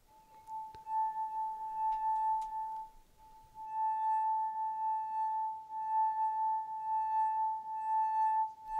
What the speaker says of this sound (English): You'll hear an eerie sound as the glass sings.